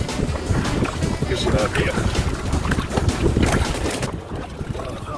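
Heavy wind buffets the microphone while kayaking, a loud, steady roar with water splashing close by and someone talking over it before it eases toward the end.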